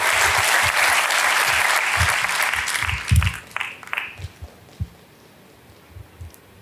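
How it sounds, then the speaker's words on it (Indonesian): Church congregation applause, a broad, loud wash of many hands clapping that holds steady for a few seconds, then thins into a handful of scattered claps and fades, with a few low sounds from the room. "boleh tepuk tangan saudara"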